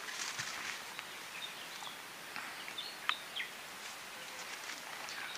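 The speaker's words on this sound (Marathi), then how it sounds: "इथे पक्ष्यांचा आवाज येतो" Birds chirping in a forest, with scattered short tweets and calls at moderate distance over a faint steady outdoor background, some soft rustling steps, and no talking.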